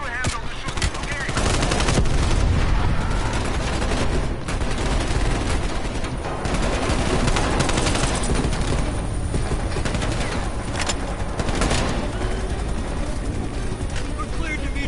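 Dense gunfire from the Call of Duty video game, sustained bursts and rapid automatic fire over a continuous helicopter-like roar, loud and busy throughout with little pause.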